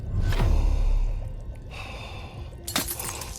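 A horror game character struggles for air with heavy, ragged gasps up close. A sharp inhale opens it, strained breathing follows, and a second sudden gasp comes near the end.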